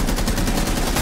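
Rapid automatic gunfire in Rainbow Six Siege, loud and close, a dense continuous burst of shots aimed at a pillar with no pauses over the whole second.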